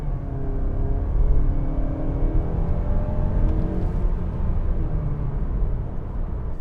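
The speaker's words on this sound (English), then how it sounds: "All right, so kind of launch it there from a start." A 2021 Mazda CX-30 2.5 S Premium pulls away from a standstill, engine hum climbing through rising tones in a muted, steady cabin drone without sharp peaks.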